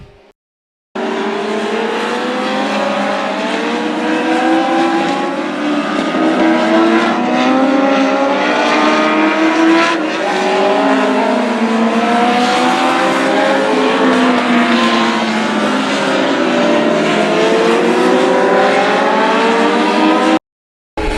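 Legends cars and Bandolero cars race together on the track at NHM, with a steady loud roar of several engines revving and passing close, their pitches rising and falling continuously.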